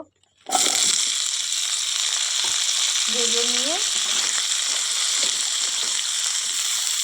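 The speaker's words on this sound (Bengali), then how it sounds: "কড়াইতে তেল দিয়ে দিলাম বন্ধুরা আর এগুলা একসঙ্গেই সবজিগুলো ভালো করে ভেজে নেব" Vegetables fry in oil in a wok, a steady, close broadband sizzle that starts abruptly after a brief quiet moment and holds evenly, with a short faint tonal squeak partway through.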